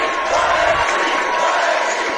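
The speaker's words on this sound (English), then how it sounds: "That was a cool chant, though." A crowd chants inside a high school gym during a Crater versus North Eugene basketball game, a steady, loud wash of many voices filling the room.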